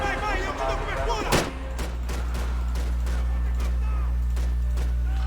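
Gunfire in the video game Max Payne 3, a sharp loud shot followed by a rapid string of fainter repeated shots, heard under a steady low game drone with a player talking at the start.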